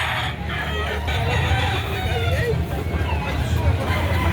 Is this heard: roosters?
yes